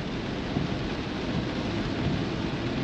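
Heavy rain in Saigon with thunder, a dense steady hiss of falling water and a low rolling rumble underneath, constant and enveloping with no voices.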